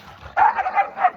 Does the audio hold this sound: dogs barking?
yes